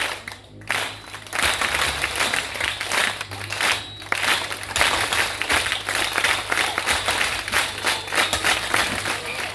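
A crowd at a game event organised by President Shekina breaks into sustained applause, a loud, dense wash of clapping that holds steady for the whole stretch under a low hum.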